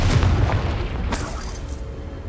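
The Confringo spell in the video game Hogwarts Legacy detonates with a heavy, close boom and rumbling low-end, followed by a sharp crack about a second later and a fading tail.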